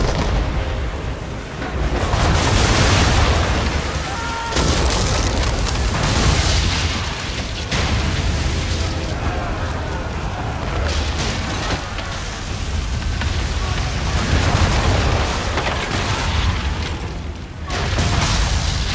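Heavy cannon fire from a ship during a storm at sea in Assassin's Creed III, repeated deep booms and blasts rolling over a loud roar of wind and waves throughout.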